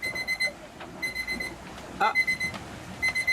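An alarm timer set for 30-minute watches aboard a sailboat beeps in repeated rapid bursts with short pauses between them, close and clear, and a person briefly voices a short exclamation.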